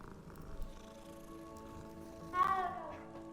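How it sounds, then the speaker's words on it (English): A black cat in a wizard video game gives a short, rising meow at mid-loudness over steady game music, with the rest of the moment filled by the soundtrack. "Good cat."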